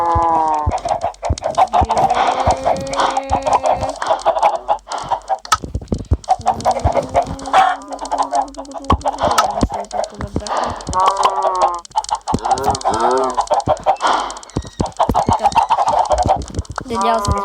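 Chickens clucking close by in a rural setting, repeated bursts of clucks and squawks from several birds, with a person talking intermittently among them.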